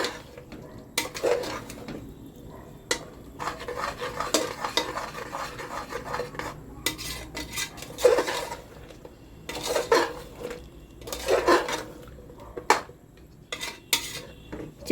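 Mutton for a Lucknowi kundan kaliyan is stirred and sautéed in a pot, with repeated bursts of a spoon scraping and clanking against metal over a light sizzle.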